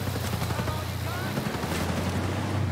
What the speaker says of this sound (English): It's nothing like a cheap minigun, is there?